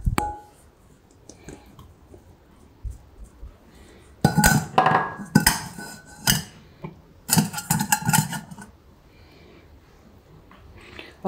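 A spoon mixes pakora batter made with flour and vegetables in a bowl, producing bursts of loud, rapid clinking and scraping against the bowl, separated by short quiet pauses, close up and without voices.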